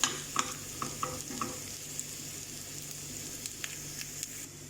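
Chicken bhuna frying in a pan, a steady soft sizzle with occasional scraping stirs and clinks near the microphone, nobody speaking.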